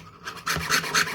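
A hand saw rasps through a piece of wax in several short back-and-forth strokes, close and dry, growing louder after a quiet start.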